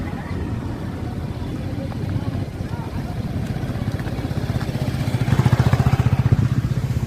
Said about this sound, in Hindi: अभी मैं अपना बाइक यहाँ पार्क करूँगा।